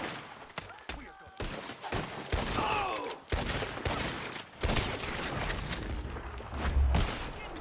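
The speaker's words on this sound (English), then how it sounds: "He's going for the Gatling. Look out, he's firing!" A Gatling gun fires in the Red Dead Redemption 2 video game, sending out dense, loud bursts of rapid gunfire that carry through the whole stretch with barely a pause.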